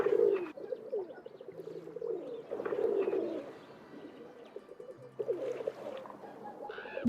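Pigeons coo repeatedly in the Paris setting of the Nancy Drew game Danger by Design, soft throaty calls rising and falling over a bustling ambient street bed, with no talking.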